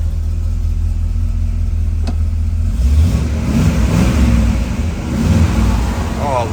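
A 1968 Buick GS 400 convertible's 400 V8 idles smoothly and then revs, a steady low rumble with rising throttle bursts, close by and loud.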